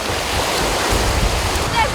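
Rough sea surf at a beach during a children's surfing lesson, a steady broadband wash of breaking waves with wind noise across the microphone, loud and continuous throughout.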